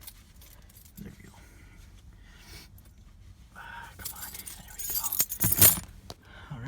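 Car keys jangle briefly near a Porsche 944 with its hot engine bay open, a short metallic rattle that rises toward the end over quiet background, with a person talking in the clip.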